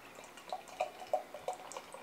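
French Toast Stout, a dark beer, poured from a bottle with soft repeated glugs and drips, quiet and close, with no talking.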